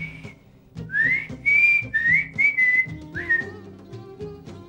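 Someone whistles a short, wavering tune indoors, a string of clear, bright phrases rising and falling over a few seconds against faint room bustle.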